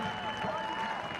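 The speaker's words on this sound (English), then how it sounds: "He exits to a round of applause, as does Pedro Santos" A soccer crowd at a Loudoun United versus Louisville City match applauds a substituted player leaving the field, a soft, distant, steady patter of clapping under a commentator's voice.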